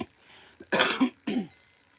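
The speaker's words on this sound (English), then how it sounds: "Forgive the cough, it's allergies." A man coughs twice in quick succession, a loud harsh burst followed by a shorter second cough, close and clear with faint throat noise before them.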